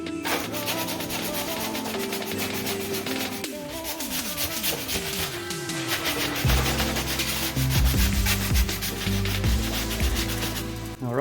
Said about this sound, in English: So now I'm just going to sand these smooth and get them installed.